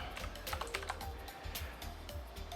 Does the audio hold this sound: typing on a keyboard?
yes